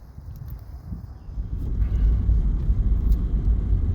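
A 1931 Ford Model A hot rod with an all-steel body idles nearby, its engine giving a deep, steady rumble that swells louder partway through under light wind noise.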